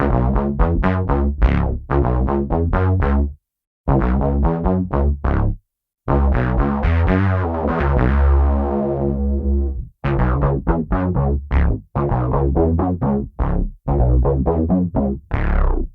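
Punchy synth bass notes with the filter turned off, in a repeating rhythmic pattern with brief gaps, bright and buzzy, played alone and up close.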